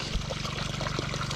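Steady irrigation water flows and trickles continuously at close range as the flow weakens, a broad wash with a low rumble underneath.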